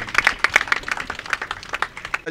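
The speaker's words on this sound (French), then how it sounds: "Applaudissez très fort les doyens." An audience claps for school elders at a donation ceremony held by a former pupils' association in Pikine, a brisk, steady patter of hands close by for a couple of seconds.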